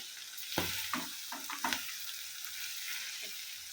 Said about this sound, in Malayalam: ഇഞ്ചി പച്ചമുളകൊക്കെ ഒന്ന് മൂത്ത് വെക്കാം